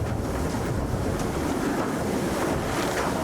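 Storm waves crash and wind roars at sea aboard a racing yacht, a loud, continuous, close rush of water and gusting wind with no pauses.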